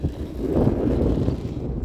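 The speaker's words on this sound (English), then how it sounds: "So at the moment it's very windy." Low, rumbling wind buffeting a microphone, steady and fairly loud throughout, with no voices.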